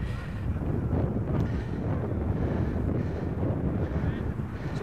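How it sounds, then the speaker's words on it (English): Heavy, steady wind buffeting the microphone at an outdoor rugby match in Bishop's Stortford, a continuous low rumble with gusty roughness throughout and no talking. "It's a windy day here at Bishop Stortford."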